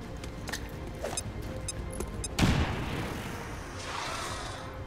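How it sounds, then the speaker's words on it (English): A single grenade bursts with a sharp, heavy boom midway through in the video game XCOM 2, preceded by small clicks and rustling and followed by a fading rumble of debris, no talking. "Grenade out!"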